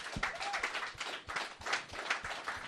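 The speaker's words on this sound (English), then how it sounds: "Lots of golf clapping going on" Light, scattered clapping from a small, mellow comedy-show audience, a thin patter of soft golf-style claps going on steadily with no cheering.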